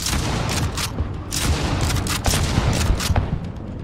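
Rapid bursts of gunfire from the video game Project R.I.P., loud and dense, with overlapping shots and booms rattling continuously through the short stretch.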